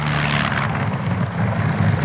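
A World War II Avro Lancaster bomber, "Just Jane", rolls along its airfield runway, a steady loud piston-engine and propeller drone with low harmonic hum, continuous and close, with no talk.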